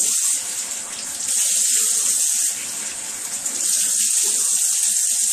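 Tap water runs steadily into a sink while face cleanser is rinsed off, a continuous close splashing with slight dips in flow and no voices.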